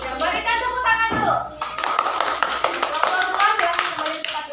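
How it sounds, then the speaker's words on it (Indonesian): A group of children clap together in a classroom, a dense burst of hand claps rolling on for several seconds after an earlier stretch of children's voices. "berikan tepuk tangan dulu"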